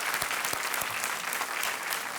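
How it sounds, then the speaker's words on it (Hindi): Studio audience applause on the TV game show Kaun Banega Crorepati, a loud, dense burst of clapping close up with no talk over it. "हम एक बार फिर तालियों के साथ आपका अभिनंदन करते हैं"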